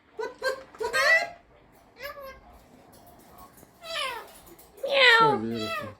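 A cat meows in several drawn-out, wavering calls spaced across a few seconds, close and fairly loud. A voice copies the meows between them, with a voice and brief giggling mixed in.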